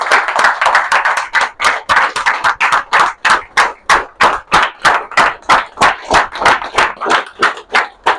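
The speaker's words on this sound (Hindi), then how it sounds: "तालियों के साथ।" An audience at a meeting in Dalsinghsarai claps loudly in unison, welcoming a guest onstage with a steady, evenly spaced beat of strong claps, about two to three per second, with no talking over it.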